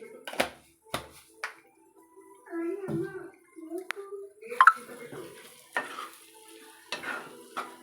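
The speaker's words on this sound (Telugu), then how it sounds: "పచ్చివాసన వేయేంత వరకు ఇలా ఫ్రై చేసుకుంటూ ఉండాలి" Spoon scraping and stirring vegetable masala curry frying in a pan, with intermittent clinks and soft sizzling, while a person talks over the cooking.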